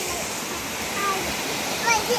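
Fast-flowing river water rushes in a steady broadband roar at a family resort in Sibolangit, with a voice briefly audible over it.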